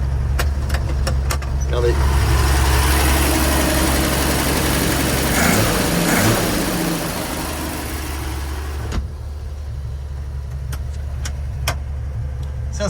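A 1966 Ford Econoline campervan engine runs at a steady, loud, low idle for most of the stretch, then drops to a quieter hum, with someone speaking French over it.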